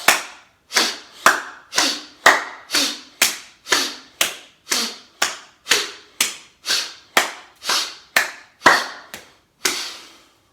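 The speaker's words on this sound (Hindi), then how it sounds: "यहाँ एक ताली बजेगी, और सांसों को छोड़ते हुए हाथ पीछे जाके पीछे ताली बजेगी।" Hand claps marking a yoga breathing exercise, about nineteen sharp, close single claps in a steady, even rhythm, each ringing briefly before the next, with no talk.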